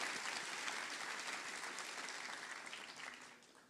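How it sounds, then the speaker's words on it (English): An audience at a tech-sector conference's opening remarks gives a round of applause, a dense, sustained clapping crowd heard quietly and evenly, tapering slightly at the end. "I want to give a great round of applause to our girls here in tech sector"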